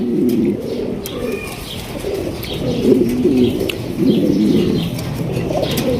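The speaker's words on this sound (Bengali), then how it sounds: "এটা হচ্ছে ইন্দোনেশিয়ান বিউটি কবুতর" Several Indonesian Beauty pigeons coo in low, throaty, repeated calls close by, with faint chirps and a brief flutter of wings.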